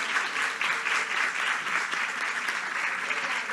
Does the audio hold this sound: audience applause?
yes